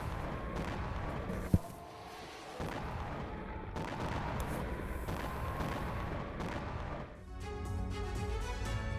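Missile strike in Belgorod attributed to a US-made HIMARS launcher: a sharp crack near the start, then a sustained rumbling roar of blasts and fire that holds steady and eases near the end, with no talking.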